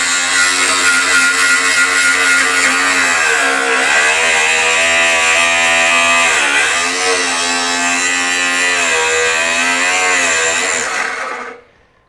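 A Metabo HPT 36V cordless angle grinder forces its grinding wheel through metal like a cutting wheel, giving a loud, steady high-pitched whine with a dense gritty rasp and brief pitch dips under pressure, then a quick spin-down at the end.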